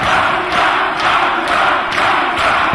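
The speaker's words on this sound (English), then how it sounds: "And listen to this crowd." A wrestling crowd at a Dragon Gate show in England roars for Pac, a loud, dense, continuous wall of cheering and chanting that swells in pulses, with no voices standing out.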